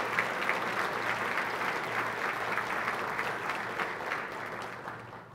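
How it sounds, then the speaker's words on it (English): A seated audience at a 2014 congressional district address applauds the local chamber of commerce. The clapping is a steady, moderately loud round that tapers slightly at the end. "Let's give a round of applause to the West Side,"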